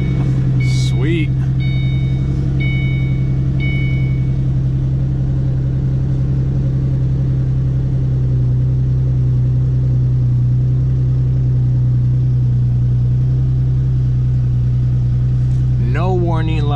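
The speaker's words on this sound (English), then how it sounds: "Could hear the exhaust." A Ford Mustang bought from a Copart salvage auction idles steadily with a deep, constant exhaust rumble, close and loud throughout, broken only by a few brief faint beeps near the start.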